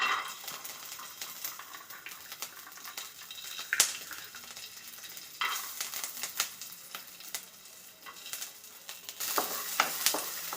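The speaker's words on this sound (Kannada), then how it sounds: "ಬೆಳ್ಳುಳ್ಳಿ ಒಂದು ಸ್ವಲ್ಪ ಫ್ರೈ ಆಗಲಿ." Garlic crackles softly in a pan for radish chutney, with a low steady sizzle and sharp stirring clinks and scrapes at irregular intervals.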